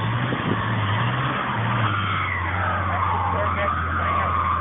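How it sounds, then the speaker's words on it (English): Car tires spinning in the snow on a Harlem street at 118th Street and Malcolm X Blvd, a continuous wavering whine with a low rumble beneath, while people talk nearby. "Trying it again, trying it again. Wheels spinning, baby. Wheels spinning."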